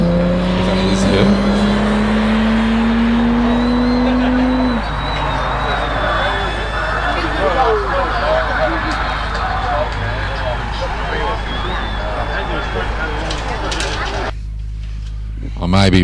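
Car engine at a Lake District hillclimb event roaring as it drives straight through a chicane, revving loudly and then easing off, with a commentator talking over the top.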